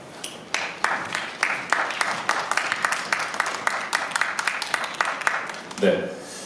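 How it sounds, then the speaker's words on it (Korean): An audience claps steadily for two actors at a press call for the musical Phantom, several seconds of a dense patter of many hands, before a voice briefly begins to speak at the end. "박수로 두 배우를 맞아주시기 바랍니다."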